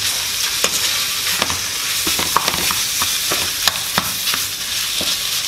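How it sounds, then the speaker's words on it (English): Spiced ground beef filling for Guyanese beef patties cooks in a pan, a loud steady sizzle and hiss broken by repeated sharp scraping stirs, close up with no talk. "Mix well, and now you're going to allow this to cook completely and fully."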